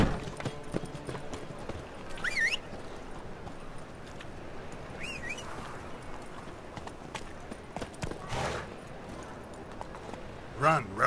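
Hoofbeats of the horse Roach clip-clopping in Witcher 3, moderately faint under game music and brief character voices, with a louder burst of effects near the end.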